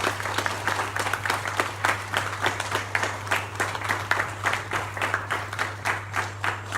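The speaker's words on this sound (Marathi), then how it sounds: "ज्यांच्यामुळे छान कार्यक्रम कोऑर्डिनेट झाला आहे त्यांच्यासाठी आपण एकदा जोरदार टाळ्या वाजवूया" A group at a World Heart Day laughter yoga session claps for the event coordinators. The clapping is steady and rhythmic, with evenly spaced beats over a low electrical hum.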